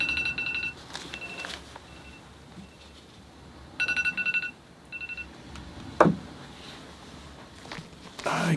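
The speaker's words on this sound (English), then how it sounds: "my phone is ringing off the hook tonight." A phone rings in a room where someone is painting figures in watercolor, with repeated bursts of electronic ringing close by, alongside faint knocks and footstep-like thuds.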